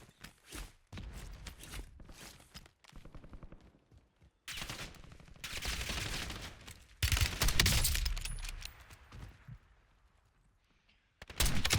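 Gunfire in the Warzone video game comes as bursts of automatic fire and single shots of varying loudness, separated by short quiet gaps, with no voices.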